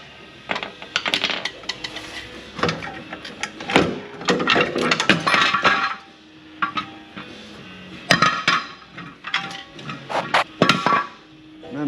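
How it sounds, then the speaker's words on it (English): Metal-on-metal hammering on the inboard drum brakes of a semi truck during a brake job, sharp irregular clanks and whacks in clustered bursts, close and loud with short pauses between strikes. "I'm going to go ahead and knock these brakes off"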